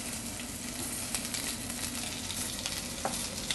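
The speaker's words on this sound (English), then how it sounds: "I'm gonna add the asparagus that I've cut into the oil," Cut asparagus sizzling in hot oil in a pan, with a steady close crackle and a few louder pops, heard alone without talk.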